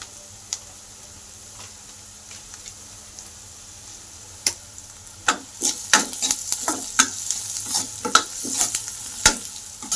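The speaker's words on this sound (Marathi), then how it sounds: "हळद मीठ टाकून मस्त कांदा फ्राय करून घेतला." Onion fries in a pan with turmeric and salt, giving a steady sizzle broken by repeated scraping and stirring clicks that grow busier and louder toward the end.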